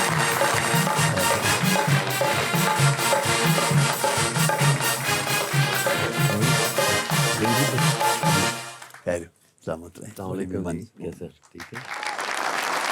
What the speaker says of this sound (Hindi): ज़ोरदार तालियों में उनका इस्तकबाल कीजिए